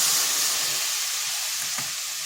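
Spice paste hisses and sizzles steadily in a hot pan while cauliflower stalk chorchori is cooked, a continuous close frying noise with no talking.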